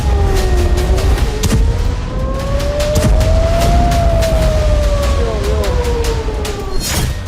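Air raid sirens wailing over Israel with scattered explosions, a rising and falling siren tone under dense roaring noise, punctuated by sharp bursts and thuds, loud and continuous.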